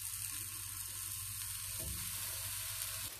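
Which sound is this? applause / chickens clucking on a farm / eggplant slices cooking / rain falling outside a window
eggplant slices cooking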